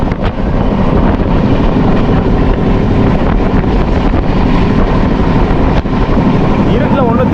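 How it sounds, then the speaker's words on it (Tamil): Interior of a passenger train rushing through the night at around 130 km/h, giving a loud, steady roar and rumble with wind buffeting that never lets up. A faint voice sits underneath. "ஆக்சுவலாக செம ஸ்பீடாக போகுதுங்க. 130 தொட்டுட்டாங்க வண்டி."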